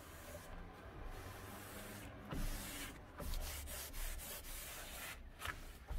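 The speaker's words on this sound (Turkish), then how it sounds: "Bezle sürtüyorum, çıkmıyor." A cloth rubs a stained PVC door frame in repeated short scrubbing strokes, close and soft, with brief pauses between passes.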